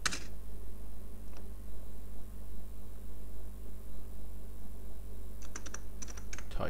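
Rapid keystrokes on a computer keyboard while code is written, soft irregular clicks close by, with a sharper flurry of taps near the start and again toward the end.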